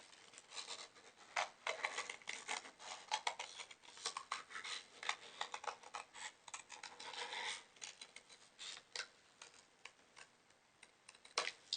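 Scissors snip through freezer paper while cutting out templates, a long run of close, crisp irregular cuts with paper rustle between snips and no voices.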